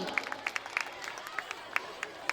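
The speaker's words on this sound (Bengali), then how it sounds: "একটু জোরে হাততালি দিব" Scattered hand claps from an audience at a school cultural program after a child's dance performance, sharp irregular claps in a thin burst, fairly faint and brief.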